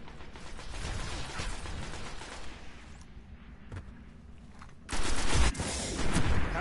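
Heavy gunfire fills a Destiny Crucible Domination match on PS4, a dense fusillade of close shots that thins to scattered bursts, then returns loud with a deep boom.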